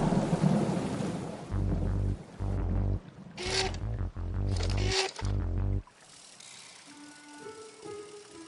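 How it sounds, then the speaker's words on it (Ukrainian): A thunderstorm with rumbling thunder and steady rain, heard loud at the start and fading near the end, with music playing over it through the middle. "увага, наближається навальниця."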